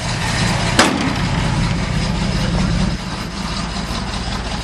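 A car engine fitted with an MSD ignition system idles steadily, a loud, close, low rumbling drone with a sharp blip near the start and the idle settling slightly quieter partway through.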